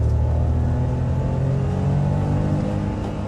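Steady engine drone from inside a Volkswagen up! with I-Motion transmission as it accelerates through first and second gear, a constant close, low rumble with no talking.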